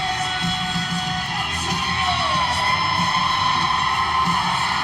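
A loud arena crowd cheers and whoops at a gymnastics season opener, a dense, continuous roar of many voices that holds steady and swells slightly throughout.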